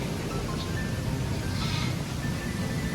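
A goat, a new mother that has just given birth to quadruplets, gives a brief faint bleat amid steady outdoor background noise.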